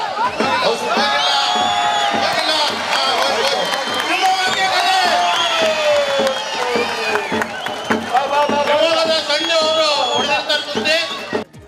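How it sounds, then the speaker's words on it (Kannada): At a kusti wrestling bout in Shivamogga's Nehru stadium, a loud crowd cheers and whistles continuously over steady drum beats, with shouting voices mixed in. "ಸುತ್ತಲೂ ನೆರೆದಿದ್ದ ಪ್ರೇಕ್ಷಕರು ಕೇಕೆ ಹಾಕಿ ಚಪ್ಪಾಳೆ ತಟ್ಟುತ್ತಾ ಪೈಲ್ವಾನರನ್ನ ಹುರಿದುಂಬಿಸುತ್ತಿದ್ರು"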